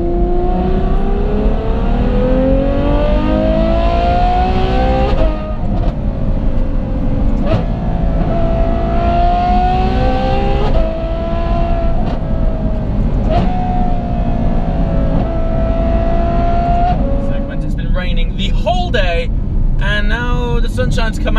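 A Novitec N-Largo Ferrari engine revs and accelerates loudly, its rising harmonic tone climbing repeatedly in sweeps before breaking into a rougher, choppier roar near the end.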